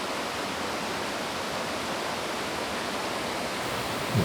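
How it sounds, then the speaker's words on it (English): A steady, full rush of falling water pours without letup from a close 25-foot waterfall into a small pool near Cherokee, North Carolina, dense and even, with a brief low thump at the very end. "This was just a nice little waterfalls, not very big"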